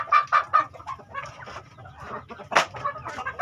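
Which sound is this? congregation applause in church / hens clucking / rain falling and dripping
hens clucking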